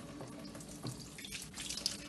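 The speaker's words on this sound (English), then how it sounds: "let me wash my hands." A tap runs into a kitchen sink while hands are washed under the stream, a steady close splashing rush with small uneven bursts as the hands move through the water.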